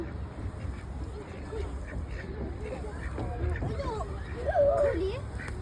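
Ducks quack repeatedly at a park pond in Saudi Arabia, a string of nasal calls rising clearer toward the end over a low murmur of background noise.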